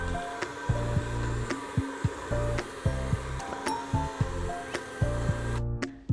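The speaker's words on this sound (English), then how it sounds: "I'm just going to be using my hand mixer to whisk it." An electric hand mixer whirs steadily while whisking solidified shea butter and oil into a fluffy whipped body butter, with regular knocks of the beaters against the bowl and the motor stopping at the end.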